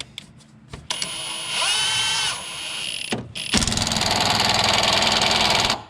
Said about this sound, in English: Now hopefully it'll bite and we can tighten it up.